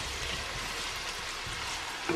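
Steady, even sizzle of onion frying in a pot of blended pepper, ginger and garlic for Ghana turkey stew, continuous and close, with a brief clink near the end.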